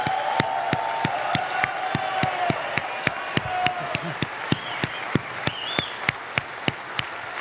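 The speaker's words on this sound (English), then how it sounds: "A big round of applause for our bikers" Crowd applause for a group of bikers, steady dense clapping with a few whoops and cheers mixed in, lasting throughout at moderate loudness with voices talking over it.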